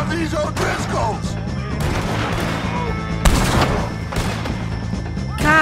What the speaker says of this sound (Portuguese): eu errei o tiro de novo